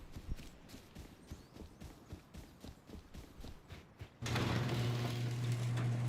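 Horse hooves clopping in a steady rhythmic walk in the survival game Rust, close and moderate in level, giving way after about four seconds to a louder continuous droning hum that masks them.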